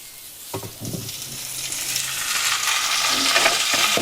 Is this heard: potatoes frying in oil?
yes